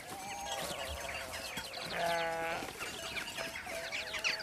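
Sheep bleat repeatedly in an outdoor flock where little egrets ride on their backs, several wavering calls rising clearly around the middle over a steady background of more distant bleats and rustling.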